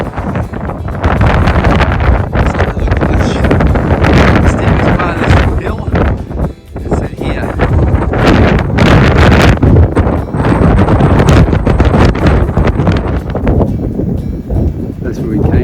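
Strong wind blasts across a steep mountain trail on the Te Araroa near Queenstown, New Zealand, roaring and buffeting the microphone in loud, continuous gusts with brief lulls.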